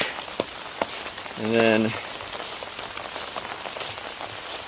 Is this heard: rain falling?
yes